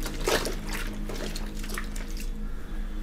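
Tap water runs into a container being half filled to soak floor mats before washing them in a washing machine, a steady close splash and gurgle with no talking.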